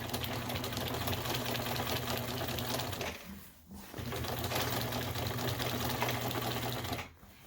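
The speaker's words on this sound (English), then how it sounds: "It doesn't have any problem sewing through it." A sewing machine runs steadily as it stitches through a cymbals bag, a continuous mechanical whir with a short pause near the middle and a brief stop near the end.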